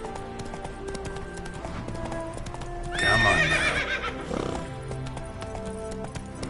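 Horse hooves clip-clop steadily in The Witcher 3 video game, with a neigh or whinny rising over the rhythm midway and a short spoken line in the clip.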